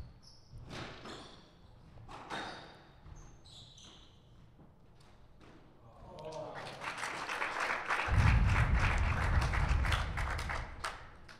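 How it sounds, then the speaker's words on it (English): Squash spectators break into applause during a third-place match, the clapping swelling from scattered claps into dense, loud applause in the second half, with a commentator talking over it. "the crowd showing their support"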